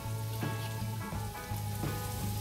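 Pre-cut bell pepper hits a hot pan and sizzles loudly and steadily, a dense, constant frying hiss with faint stirring clicks, no voices.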